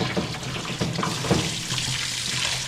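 Hot water runs from a tap in an old tie-stall barn for cleaning the cattle water bowls, a steady close hiss of flowing water with a few splashy surges, no talking.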